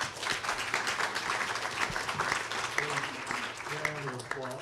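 Steady applause from an audience at a San Diego mayoral candidates' debate, dense clapping throughout, with a voice starting to speak over it near the end.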